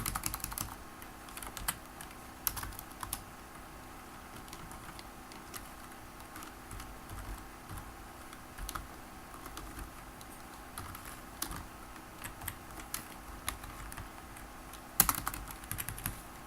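Steady typing on a computer keyboard while a JavaScript program is written, with quick clustered key taps and occasional louder strokes running throughout, fairly close, with no voice.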